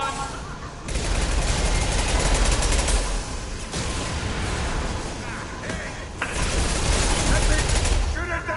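Gunfire in the video game Mass Effect 2 Legendary Edition: a loud, nearly continuous barrage of automatic weapon shots lasting the whole stretch, with brief dips before new bursts surge back in.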